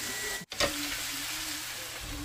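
Sliced bitter gourd fries in a pan with a soft, steady sizzle, briefly interrupted by a quick stir or clatter, with no one speaking.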